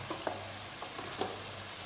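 Mango chiyan pieces sizzle softly in a pan with salt and turmeric while being stirred, with faint scrapes and light taps spaced a fraction of a second apart over a quiet, steady frying hiss.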